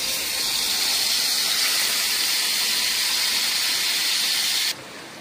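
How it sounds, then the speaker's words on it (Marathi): Marinated paneer fries in a tablespoon of hot oil in a pan, giving a loud, steady, broad hiss and sizzle close by that carries on evenly before cutting off abruptly near the end. "त्यात आपण 1 टेबलस्पून तेल घालत आहोत। त्यावर मॅरिनेट केलेले पनीर घालत आहोत।"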